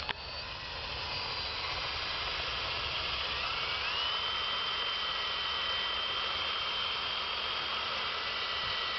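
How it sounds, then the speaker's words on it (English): A power drill whirs continuously at a high, steady pitch while drilling to hang a flower basket, starting abruptly and holding a loud sustained whine with a slight pitch shift midway. "And start to drill."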